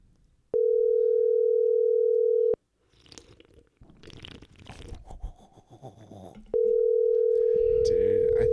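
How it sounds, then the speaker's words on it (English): A steady electronic ringback tone sounds loudly for about two seconds, then people talk and move around, and the tone returns near the end. "Okay, guys, it's ringing."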